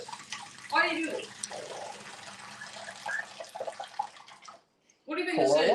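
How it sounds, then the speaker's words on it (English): Water pours steadily into a container during a live Thanksgiving feeding session with a talking parrot, a hissing splash lasting several seconds and partly under voices, then briefly stopping before loud chatter resumes. "we're all done with the pouring water"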